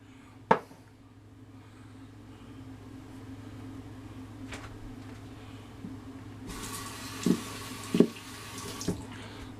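A tap runs into a sink after hands are lathered with soap, a broad hiss of water starting partway through, with a few clunks and splashes over a low steady hum in a quiet room.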